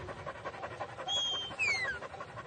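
A sheepdog pants in quick, rhythmic breaths close by, and a couple of brief high whistle-like tones sound partway through. No one speaks.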